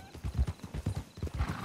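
Horse hooves clip-clopping in the Western video game Red Dead Redemption II, a quick, regular run of paired thuds at close range, moderately loud with no talk.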